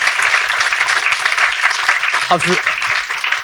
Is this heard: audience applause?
yes